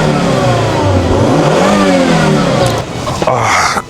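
A Volvo five-cylinder engine revs loudly and close, rising and falling in pitch as the throttle swells, then easing off near the end.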